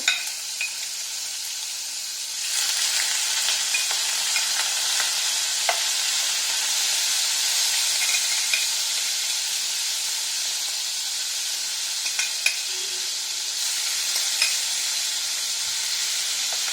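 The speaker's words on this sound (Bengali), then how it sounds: "চিংড়ি মাছ খুব তাড়াতাড়ি ভাজা হয়ে যায়" Steady, loud sizzling of prawns frying in hot oil, crackling continuously with small pops throughout and no talking.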